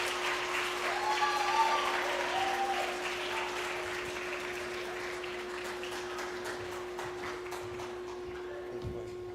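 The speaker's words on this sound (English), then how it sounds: "Clap for him, please." Applause from a student audience at a school journalism event welcoming a speaker, a steady wash of clapping that is loudest early and gradually thins out, with a constant electrical hum underneath and faint voices.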